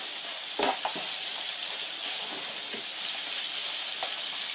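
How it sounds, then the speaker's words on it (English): Meat sautéing and searing in a crowded pan for a curry casserole, a steady loud sizzle throughout with a few brief stirring scrapes. "I'm just going to saute that off"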